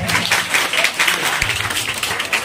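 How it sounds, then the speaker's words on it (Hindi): A college audience applauds a guest speaker, a reporter, at a campus event, with dense, steady hand clapping filling the hall from start to finish. "क्या इनके लिए एक ताली नहीं बनती है?"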